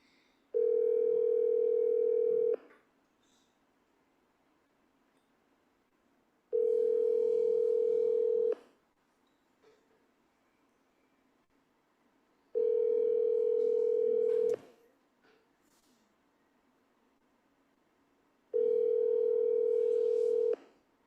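A telephone ringback tone sounds while calling a real estate agent, four evenly spaced steady tones of about two seconds each, separated by roughly four-second gaps of near silence.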